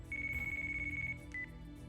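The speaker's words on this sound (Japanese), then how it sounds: "電話鳴ってますぜ。" A phone rings in the Yakuza Kiwami video game: a steady electronic ringtone tone holds for about a second, then a short second chirp follows, moderately loud over a low game background hum.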